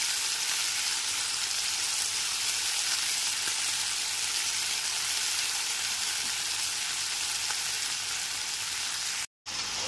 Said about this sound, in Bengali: লবণ হলুদ মাখানো সমস্ত চিংড়ি মাছগুলোকে দিয়ে গ্যাসের ফ্লেমটা হাইতে রেখে সমস্ত মাছগুলোকে ভেজে নেব